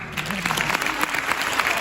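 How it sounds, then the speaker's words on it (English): An audience at a health talk breaks into brief, scattered clapping, individual claps standing out irregularly at moderate volume rather than a thick roar. "You can clap now."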